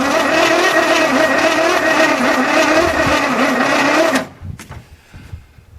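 A 1981 Chevy square body truck engine cranks on a weak battery after sitting in a field for years, a loud, steady grinding whir for about four seconds that cuts off abruptly into quiet.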